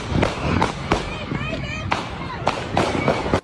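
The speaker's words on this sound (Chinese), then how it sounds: "传出连续枪声" Repeated sharp bangs of gunfire ring out at the Old West End art festival street celebration in Toledo, Ohio, several distinct cracks spaced unevenly under a news reporter's voice.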